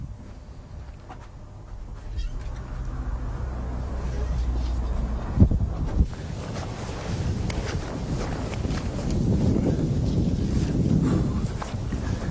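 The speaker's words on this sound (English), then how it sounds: "This wind's terrible, isn't it?" Strong wind buffeting outdoors beside the water at a UK coarse fishing spot, loud roaring gusts rumbling across the microphone throughout, with faint footsteps and movement underneath.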